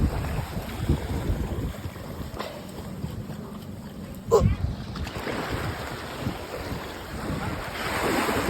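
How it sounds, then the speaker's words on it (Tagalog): Rough, windy ocean surf off a Philippine coast rolls on continuously, with broadband wash and gusts buffeting the microphone; a brief louder splash lands midway. "Kasi medyo malakas ang alon."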